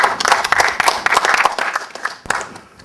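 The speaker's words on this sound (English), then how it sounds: "Let's give him a round of applause." Audience applauding a speaker after a talk on patient safety, a loud, close burst of dense clapping that thins out and fades toward the end.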